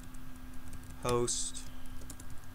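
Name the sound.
typing a command on a computer keyboard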